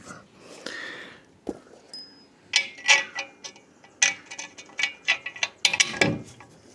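Socket wrench tightening Allen head bolts on boat trailer steps for a Bass Tracker, giving clustered ratcheting clicks and metallic taps in short bursts, close and moderately loud, with no talking.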